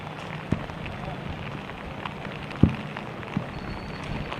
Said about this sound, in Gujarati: બિલકુલ લવલીન, જે પ્રકારે સવારે 4 વાગ્યાથી સતત વરસાદ પડી રહ્યો છે